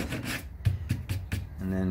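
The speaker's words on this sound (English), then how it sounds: "I'm using an 80 grit sandpaper right now to start with." A few short, rough strokes of 80 grit sandpaper rub across a surface, a quiet rasping scrape repeated several times in quick rhythm, close by.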